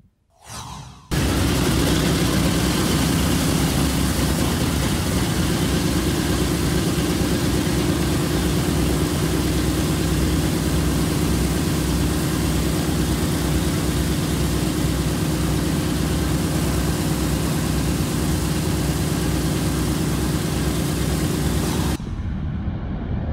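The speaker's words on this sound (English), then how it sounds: "the ever so beloved B-17-909 Flying Fortress. I mean, four engines and that sound." A Boeing B-17 Flying Fortress at an air museum event runs all four piston engines, a loud, steady, close roar that holds unbroken for about twenty seconds before cutting off.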